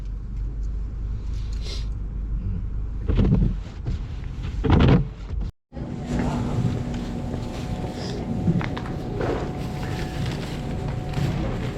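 Wind from a snowstorm buffets the microphone in a continuous low roar, with rumbling gusts and occasional thumps.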